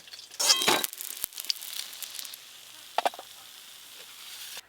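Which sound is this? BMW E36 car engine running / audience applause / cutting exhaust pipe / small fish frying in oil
small fish frying in oil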